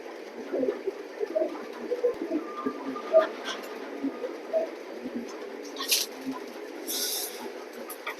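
Male pigeon cooing at a loft, soft repeated calls near the mic among other birds and background chatter, with brief hissy noise bursts later.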